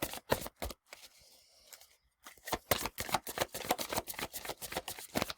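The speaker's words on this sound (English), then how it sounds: "All right, so let's shuffle." Oracle cards shuffled by hand, a quick run of crisp flicks, a brief lull, then a longer rapid series of close, sharp card snaps.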